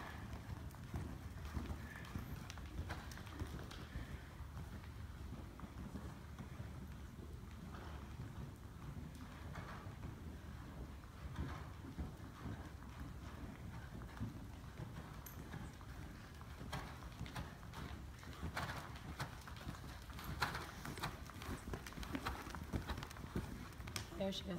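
A horse cantering in a riding arena, hooves thudding in a loose repeating rhythm under wind noise while people talk throughout.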